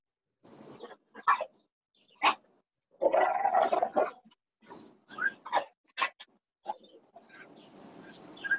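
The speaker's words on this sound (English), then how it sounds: "our dogs are going at it right now" Dogs scuffling indoors, an uncle and nephew at odds, with bursts of growling, snarling and sharp barks coming in irregular, close clusters amid quieter gaps.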